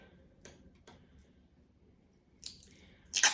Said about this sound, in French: on va revenir prendre un bout de scotch.